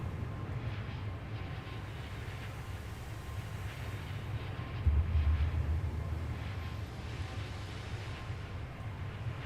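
Steady, continuous jet engine drone of an Airbus A350 airliner in Microsoft Flight Simulator 2024, a broad roaring hum with a slight low thump midway, heard alone without talk.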